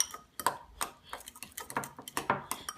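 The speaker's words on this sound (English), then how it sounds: "Gonna take my fork. I'm just gonna kind of mix it up." A fork clinks and scrapes against a bowl while mixing herbs into softened butter, producing a quick, irregular series of close metallic taps and pings.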